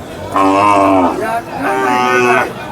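Cattle at the Sangola bull market in Maharashtra give two long, loud, close-up moos, one after another with a short pause between them.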